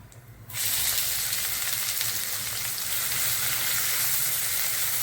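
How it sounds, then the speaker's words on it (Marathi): Cloves, peppercorns, a cinnamon piece and bay leaf sautéing in hot oil with mustard seeds, with a dense, steady sizzle that starts abruptly after a quiet half-second and runs close and loud without talk. "आता हे छान परतून घेऊ आपण"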